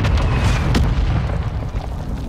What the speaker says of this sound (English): Hostile mortar strike